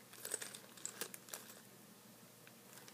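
Faint, close crinkling of a small plastic bag of craft charms being handled, with soft irregular rustles and crackles and no voices.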